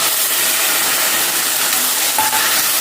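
Tomato and onion paste fries in a hot pan for a Muslim-style fish curry, giving a steady, dense sizzle and crackle throughout with light stirring scrapes and no voices.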